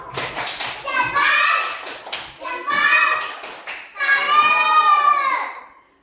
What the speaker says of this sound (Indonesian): Kasih tepuk salut, tepuk salut.